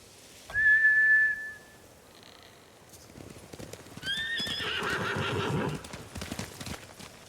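Video game sound from Ghost of Tsushima: a samurai horse whinnies loudly once, then hooves clip-clop along while another high neigh rings out, fairly close and clear.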